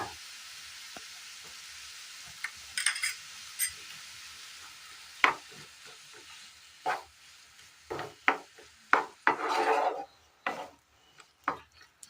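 In a Kerala home kitchen, a spoon stirs and presses food around a pan in irregular scraping strokes, with a soft sizzle and quiet gaps between the louder scrapes.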